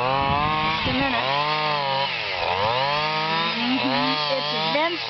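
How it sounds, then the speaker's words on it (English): A large heavy-duty string trimmer cuts along farm ditches, its engine whining loud and steady with rising and falling pitch across the whole stretch. "It's Vincent, and with a great big heavy-duty trimmer, and he's doing the ditches."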